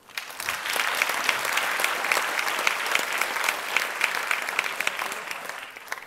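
A festival opening-gala crowd breaks into applause, many hands clapping in a dense, sustained roar that swells quickly after a short quiet start and holds steady before easing slightly at the end.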